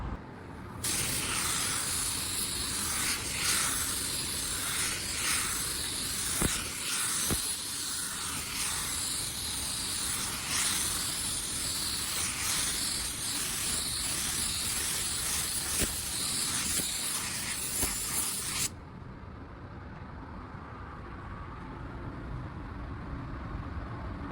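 Spray gun laying down a coat of clearcoat on a car, a steady broadband hiss running continuously for about eighteen seconds before cutting off to a quieter background.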